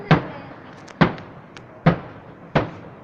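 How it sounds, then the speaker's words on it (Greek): Four sharp firework bangs in Aglantzia burst at roughly even intervals, loud and close, each with a quick decaying tail over a faint noisy background. "Μπορώ να αγοράσω πυροτεχνήματα"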